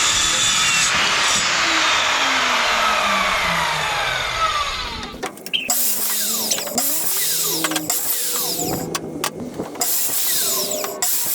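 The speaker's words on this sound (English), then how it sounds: "let's get to cutting all the wood for our shelf frames" A power saw whines and grinds through wood shelf-frame pieces, loud and close, first in one long cut, then in shorter bursts with sweeping pitch changes.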